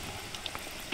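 Potato pieces fry in hot oil for a Padang-style soto, a steady close sizzle with small pops and crackles throughout.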